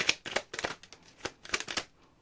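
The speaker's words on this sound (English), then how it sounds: "Okay, last shuffle." Tarot cards being shuffled by hand: a quick series of crisp, papery riffling bursts, close and fairly quiet, with no voices.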